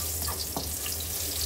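Garlic sautéing in a pan while cooking pansit bikol gives a steady, close sizzle with a few soft stir clicks throughout.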